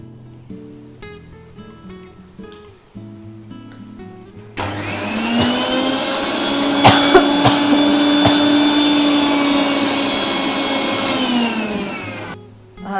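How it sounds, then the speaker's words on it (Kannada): A mixer grinder starts up loudly and whirs steadily for several seconds grinding green chillies and ginger with a little water, then winds down. Quieter music plays before it starts. "ಮಿಕ್ಸಿಯಲ್ಲಿ ಮೆಣಸಿನ್ಕಾಯಿ ಶುಂಠಿ ಎಲ್ಲ ಆಗಿದೆ."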